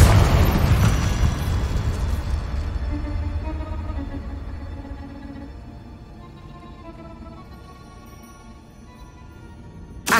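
A Confringo spell explodes in Hogwarts Legacy with a loud, booming burst that rumbles and slowly fades over several seconds, ending with a sharp new pop.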